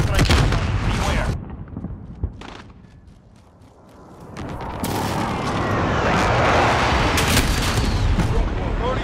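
Precision airstrike explosions and gunfire on the Shoot House map of Call of Duty Modern Warfare, hardcore team deathmatch: sharp shots give way to a lull, then a long, loud, rumbling barrage of blasts fills the last few seconds.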